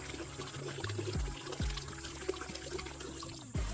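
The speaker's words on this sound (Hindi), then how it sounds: "इसमें मैंने खूब सारा लगभग 5 लीटर पानी लिया, मिक्स किया" Water being poured and stirred into a mixing container, about five litres prepared for feeding jasmine (mogra) plants; splashy, sloshing pour with a few brief dips and gurgles, close and steady, no talking.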